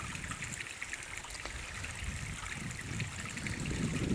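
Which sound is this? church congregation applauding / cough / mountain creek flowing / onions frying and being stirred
mountain creek flowing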